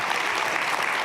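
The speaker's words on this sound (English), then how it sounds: "And yes, you can clap for that." An audience at the 28th Annual Recommitment Celebration fireside chat claps, a dense and steady wash of many hands close and loud throughout, with no break.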